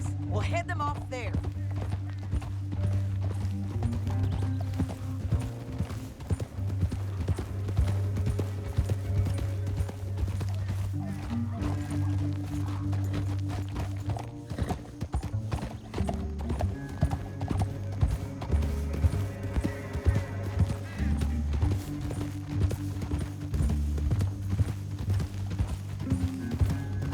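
Steady rhythmic clip-clopping of horse hooves in Red Dead Redemption 2 continues throughout, with background game music and occasional voices.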